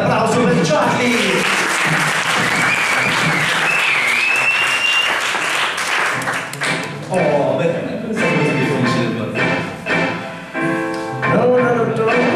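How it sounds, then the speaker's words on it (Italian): Applause from the audience at a poetry slam, dense hearty clapping for several seconds that thins into scattered claps with some voices and cheering mixed in. "un po' di suspense, un bel applauso per Charlie!"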